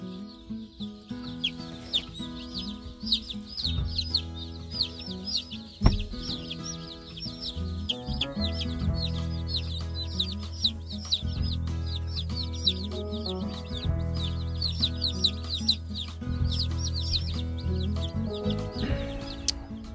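Young meat chickens in a brooder box chirp constantly in a dense, high flock chatter, with a steady musical backing underneath.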